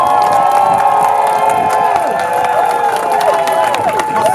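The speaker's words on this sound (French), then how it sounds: "Applaudissez-les." Crowd at a June 6 demonstration applauding and cheering health-care workers, a sustained wash of clapping with shouts and whoops, fairly loud and continuous throughout.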